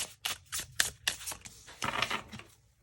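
A deck of oracle-style cards being shuffled by hand, a series of quick crisp riffles and flutters in short bursts, close and fairly quiet, with no talking.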